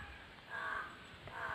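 Crows caw faintly in the distance, a few hoarse calls over a quiet outdoor background.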